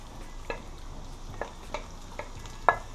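Scallion and scotch bonnet pepper frying in a pan for Jamaican-style ackee and bacon, a low steady sizzle broken by a few sharp stirring clacks, the loudest near the end.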